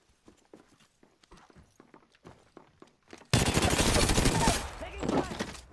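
Gunfire in Apex Legends on the Olympus map, a dense loud burst of rapid shots erupting suddenly after quieter footsteps and clicks, close and continuous for a couple of seconds.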